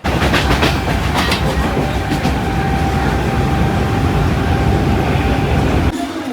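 A train rolls along loudly and steadily near Virar, wheels clattering in a continuous rumble with rhythmic clicks, close by, with a sudden shift in tone near the end.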